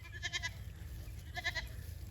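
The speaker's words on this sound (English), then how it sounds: "all the baby goats are over here" Baby goats in a farm pasture bleat in two short bursts of a few calls each, the first near the start and the second a second later, over a low steady background rumble.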